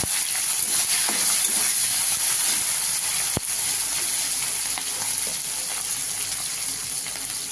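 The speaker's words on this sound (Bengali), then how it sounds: "এবার আমি দিয়ে দিলাম চিংড়ি মাছটা" Prawns fry with crushed garlic in a pan, giving a loud, steady close-up sizzle and hiss with a sharp clink partway through.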